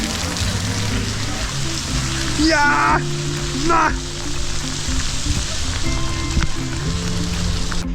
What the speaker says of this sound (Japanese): 雨がどんどんひどくなってってます。